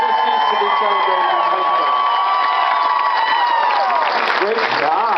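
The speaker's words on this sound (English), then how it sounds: "More love, please. More round of applause." An audience at an event applauds and cheers loudly, with sustained shouts and whoops over steady clapping and voices in the crowd.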